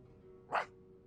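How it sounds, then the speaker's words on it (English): A dog gives one short, faint bark in a video game, a single quick yelp set against quiet background ambience. "Paimon, that's an actual dog barking"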